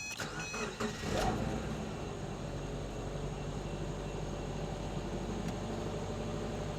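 Subaru engine with a newly replaced fuel pump cranks briefly and catches, then settles into a low, even idle close by, the start quick and the running steady and fairly quiet.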